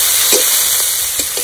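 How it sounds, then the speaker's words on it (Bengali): Chopped onion and green chillies fry in ghee with cinnamon, cardamom and cloves, making a loud, continuous close-up sizzle with a few light stirring knocks. "একটু ভেজে পেঁয়াজ কুচি দিয়ে দেবো, দিয়ে দেবো কটা কাঁচা লঙ্কা কুচি"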